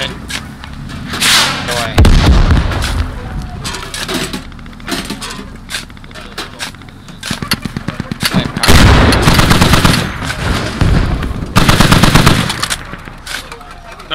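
An AA gun firing in a military shooter, with rapid bursts of loud, rattling automatic fire and heavy blasts that start and stop repeatedly, mixed with other gunfire and a brief spoken exclamation.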